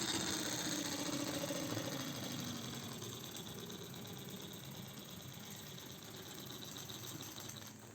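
A modified Max Regner 4x4 live steam model locomotive slows on a steep uphill grade, giving a faint, steady mechanical chugging hum that fades slightly as it loses speed, with no voices.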